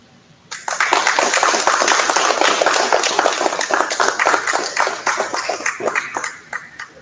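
Sudden burst of audience applause breaks out after brief quiet, loud and dense clapping that holds steady, then thins into scattered claps near the end.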